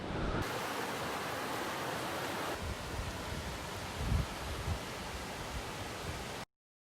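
A small waterfall on the Carp River near Marquette, heard as a steady, broadband rush of falling water at moderate level for about six seconds, with no voices, then cutting to silence.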